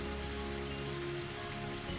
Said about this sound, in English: The only sounds to break the silence were the percussion of the rain on the roof